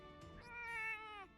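A single drawn-out, plaintive meow from a cat in the video game Etrange Overlord, rising and then falling, fairly quiet and heard alone.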